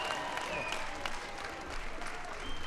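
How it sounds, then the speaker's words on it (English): A large crowd at a White House ceremony honoring the Super Bowl XLVI champion New York Giants breaks into sustained, dense applause, loud and steady throughout with some cheering mixed in. "Give the New York Giants a big round of applause."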